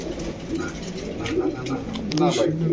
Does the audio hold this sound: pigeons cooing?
yes